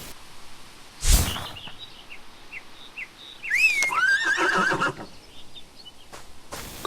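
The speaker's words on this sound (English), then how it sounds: "Fully grown, handsome horse." In the ArcheAge video game, a full-grown horse mount lets out a loud, shrill whinny that rises and wavers, set off by a sharp game effect and a few soft hoof clops.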